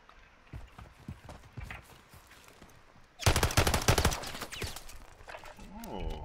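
Pistol and gunfire in a Call of Duty match: scattered sharp shots early, then a loud dense burst of rapid firing around the middle, with a voice talking at the end.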